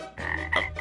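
A frog croaks twice in quick succession, loud and close, a raspy throaty call with nobody talking over it.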